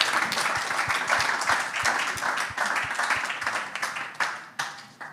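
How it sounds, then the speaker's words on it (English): An audience gives a round of applause at a women's football event, a loud, steady crowd clapping with some sharper individual claps, fading slightly near the end. "And you can continue your round of applause."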